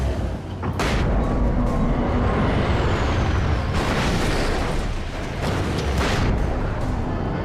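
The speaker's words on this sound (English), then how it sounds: "Oh. Flashbangs worked. Nice to see you. Just threw 3 of them." Flashbang grenades going off in a video game, three of them, heard as sharp bursts with bright hissing flashes over a loud rumbling background, spaced apart across the stretch.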